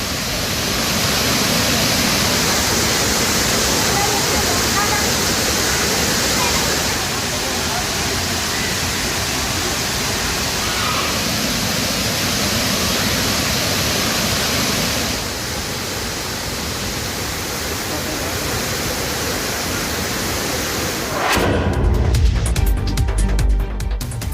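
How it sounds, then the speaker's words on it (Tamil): Floodwater pouring over Thirparappu waterfall near Kanyakumari makes a steady, loud broadband roar that lasts throughout, shifting at the end into a rougher, rumbling texture. "கன்னியாகுமரி அருகே திருப்பரப்பு அருவியில் வெள்ளப்பெருக்கு குறையாததால்"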